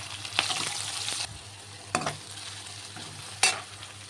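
Green chilies and chopped onion fry in a pan for a fenugreek leaf and potato curry, with short bursts of crackle and scraping stirs that come and go, separated by a quieter background hiss.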